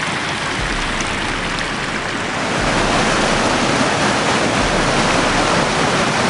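Flash flood water rushing through a normally dry wash in Tropic, southern Utah, a loud, continuous roaring wash of noise that swells slightly halfway through.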